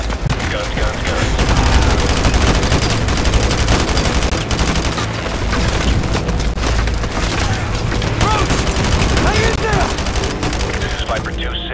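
Dense, continuous helicopter gunfire in the Modern Warfare 2 Campaign Remaster mission "Loose Ends": loud, rapid overlapping bursts and booming impacts that run almost unbroken for the whole stretch.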